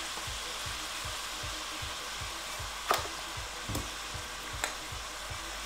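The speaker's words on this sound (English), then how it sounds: "I'm just going to fry this here until my tenderloin is nice and done" Tenderloin pieces frying with mushrooms, salt and pepper in a pan make a steady, faint hissing sizzle with a rapid low ticking pulse underneath and a few soft utensil clicks, with no voices.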